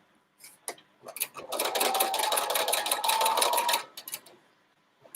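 A domestic sewing machine stitches a quilt with the needle in the down position, running in short starts and then in a steady fast whir for about two seconds before slowing to a few single stitches.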